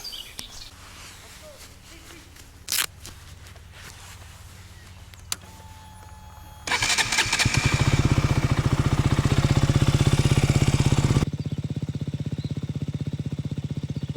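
A motorcycle engine starts and idles loudly close by for several seconds, then drops to a steadier lower running sound as the rider sets off, after a quiet outdoor stretch with faint birds.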